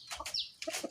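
Chickens in a home backyard coop in a crowded residential neighborhood give a quick run of close, clear clucks and squawks, with short pauses between calls and no people talking.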